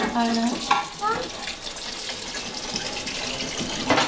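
Dishes washed under a running kitchen tap, with a steady hiss of flowing water and light clinks, close by and fairly soft, as voices talk over it.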